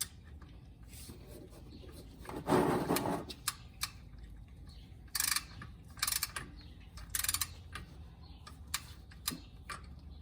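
A torque wrench tightens the differential fill plug on a Jeep Wrangler, giving a series of sharp ratcheting clicks in short bursts with pauses between them, close to the mic.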